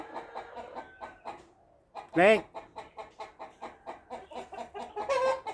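Chickens cluck in quick bursts on a farm, a steady run of short calls close by, with one loud squawk partway through and people talking over them.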